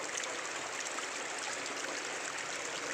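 Rainwater flows into a water harvesting pit, a soft, continuous trickling rush heard alone at low volume with no voices.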